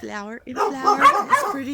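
Dogs bark in a backyard vegetable garden in mid spring, a short burst of barking and yipping mixed in and overlapping with a person talking close by.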